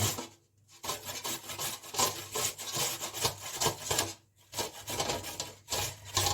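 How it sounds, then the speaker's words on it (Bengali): Amla (Indian gooseberry) rubbed over the large holes of a grater for pickle, a steady rasping scrape in quick repeated strokes, close and loud, pausing briefly twice. "সব থেকে যে বড় ফুটোগুলো আছে এটা দিয়ে আমি এটাকে ঘষে নেব কি করে ঘষছি এটা আমি এখন দেখাচ্ছি"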